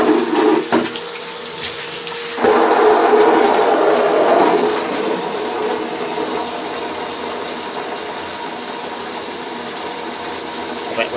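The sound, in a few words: water running from a tap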